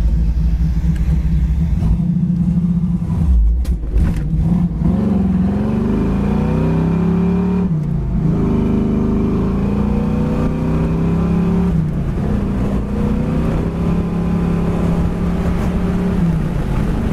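A yellow 1968 Chevrolet Camaro convertible cruises down the road, its engine a steady, loud, close rumble with shifting revs and gear changes throughout, no talking.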